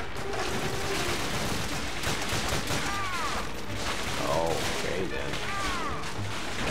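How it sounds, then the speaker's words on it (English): Machine gun fire in the World War II shooter Call of Duty: Finest Hour rattles on steadily under a dense battle din, with faint ricochet whines; a player briefly speaks. "That is definitely a machine gun."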